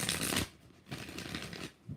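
Tarot cards shuffled by hand in two bursts of papery riffling, a dense rush at the start and a longer softer run after a short pause, close and fairly quiet with no talking.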